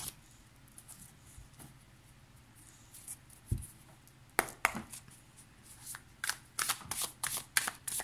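Muse Tarot cards being shuffled by hand, soft rustling at first, then a run of sharp riffling flicks and slaps close up, quiet overall with no talking.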